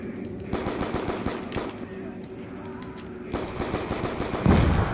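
Rapid gunfire sounds in Call of Duty Black Ops 2 Zombies, in dense, repeated bursts of shots with short pauses between them. A voice is heard briefly near the end.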